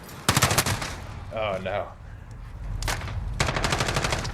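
An MG36 machine gun in Call of Duty Modern Warfare fires loud, rapid automatic bursts: one at the start and two longer ones later, with a man's brief exclamation in the pause.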